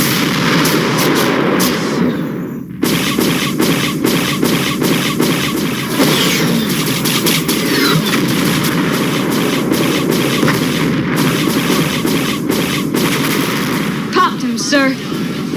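Artillery batteries firing in a sci-fi battle scene, dense rapid repeated blasts and rumbling booms filling a loud continuous barrage, with voices mixed in underneath.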